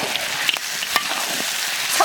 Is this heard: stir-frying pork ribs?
yes